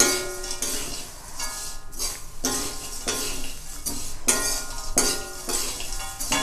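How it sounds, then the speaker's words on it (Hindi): Roasted poha chivda with peanuts is stirred in a pan with a spoon, giving repeated rhythmic scraping and rustling strokes about once a second, close and clear with no talking. "इसमें लास्ट में डाल लें मूंगफली जो भून के रखा था और इसको अच्छे से मिक्स कर लें इसमें"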